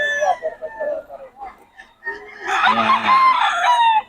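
Stag roosters of a local banded breed crow and cluck close by, a loud harmonic crow dominating the second half after scattered clucks, with someone talking briefly over them.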